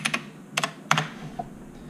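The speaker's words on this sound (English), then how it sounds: "that was a bunch of typing" Typing on a computer keyboard while coding a solution to a programming problem: short bursts of close, crisp key clicks in separate clusters with quiet gaps between them, and no talking.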